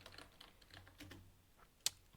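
Code is being typed on a computer keyboard, producing quiet, scattered keystrokes heard close up, with one sharper, louder click near the end.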